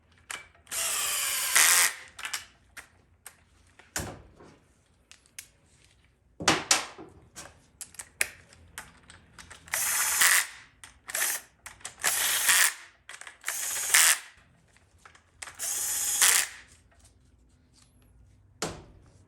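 A ratchet drives valve body bolts down on a GM TH400 automatic transmission during rebuild assembly: loud, whirring bursts of a few seconds each, repeated about eight times with quiet gaps between them.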